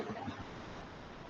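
Water poured onto a classroom board to sanitize it gives a soft, steady rushing hiss, faint and continuous for about a second with no voices.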